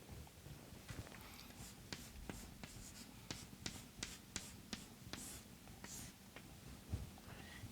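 Marker or chalk writing on a board during a physics lecture on laser cavity modes: a run of sharp, irregular scratchy strokes and taps, fairly close, over a low room hum, with no talking.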